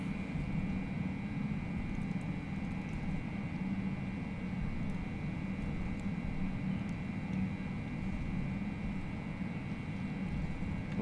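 An Airbus A320's engines in the FSLabs flight simulator roar as a steady, broadband rumble on the takeoff roll, continuous and even in level with no speech.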